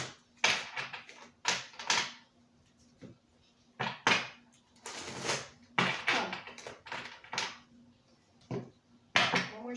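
Oracle or tarot cards are shuffled close by in irregular bursts of papery slaps and riffles, separated by short pauses and ending in a few sharp taps.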